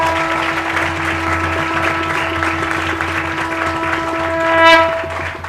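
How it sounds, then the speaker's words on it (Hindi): An audience clapping steadily and loudly in unison, sustained throughout over a constant low hum, with a short swell near the end. "मेरे बच्चों के लिए तालियां बजाओ."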